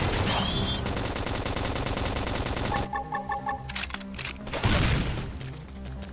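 Rapid bursts of gunfire in Xenoblade Chronicles X: Definitive Edition rattle loudly, a sustained automatic stream followed by sharper shots and electronic effects.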